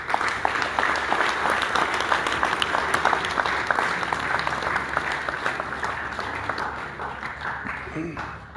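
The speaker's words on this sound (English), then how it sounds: "Round of applause for Chandra, please" A hall audience applauds a staff member with a dense, steady round of clapping that holds strongly for several seconds before tapering off toward the end.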